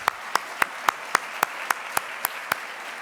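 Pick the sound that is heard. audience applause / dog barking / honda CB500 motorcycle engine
audience applause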